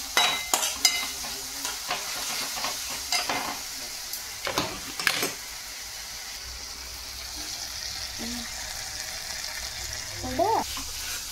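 Fried rice being stirred in a hot pan, with scraping strokes and a steady sizzle, bursts of stirring clustered early and again near the end, with brief tonal clinks.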